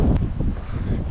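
Outdoor wind buffeting a microphone on a street in Portugal, a steady low rumbling roar lasting about a second with no speech.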